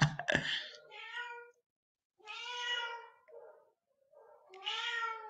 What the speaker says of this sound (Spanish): Hasta mi gato está llorando